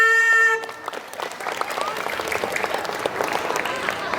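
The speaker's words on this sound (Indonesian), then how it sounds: "Tepuk tangannya mana?" Audience applause at a school closing ceremony for a technology engineering project, steady dense clapping from a crowd after a brief tonal music sting at the start.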